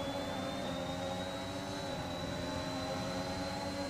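Race car engine in the F1 2021 video game, a steady high-pitched whine held at full throttle with a continuous droning roar and no talking over it.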